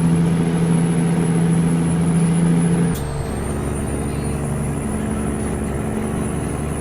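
A truck engine idles and drones steadily in American Truck Simulator, a loud continuous low hum that shifts tone midway with a brief click, then carries on evenly.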